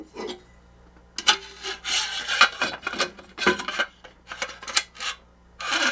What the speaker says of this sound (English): Slide those T-nuts into the fence.